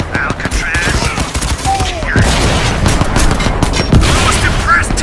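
Dense gunfire in the Crysis 2 video game, rapid crackling bursts and booms layered over a loud rumbling battle bed, with brief shouted voices in the mix.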